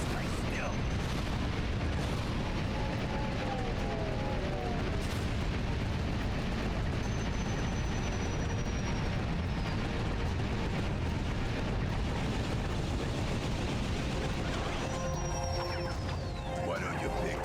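Turret cannon fire and explosions in the video game Ratchet & Clank 2: Going Commando during a boss fight, a dense, continuous barrage of booms and blasts under a bed of game music and effects, with a voice talking over it at times.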